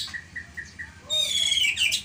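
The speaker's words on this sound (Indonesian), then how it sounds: "Salah satu ternak murai batu saya." A white-rumped shama calls close by with a series of bright, varied whistles and chirps over a low background rumble.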